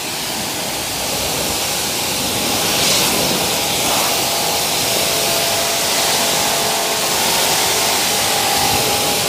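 Fendt tractor mowing hay, a steady dense broadband roar of engine and mower running close and continuous throughout, with no speech.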